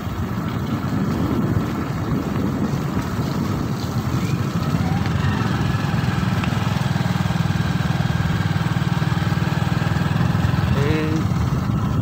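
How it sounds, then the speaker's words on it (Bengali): A motorbike engine drones steadily and loudly while riding on a road, with a constant rumble and wind noise throughout and a voice faintly audible beneath it. "আমি নিজে বাইক চালাচ্ছি"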